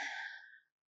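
A single deep breath, heard as an audible exhale, in a yoga class practising Virabhadrasana warrior poses. It is close and soft, fading out within under a second, with no talking.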